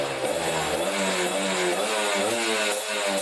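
A carbureted motorcycle fitted with a WRS racing exhaust revs up and down close by, its rasping engine note rising and falling through a few quick throttle blips.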